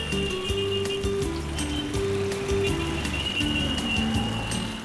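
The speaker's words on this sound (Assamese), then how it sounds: "এতিয়া বৰষুণ দিছে" Steady rain pattering on a surface, with repeated drips and a continuous wash of noise; tonal hum runs underneath.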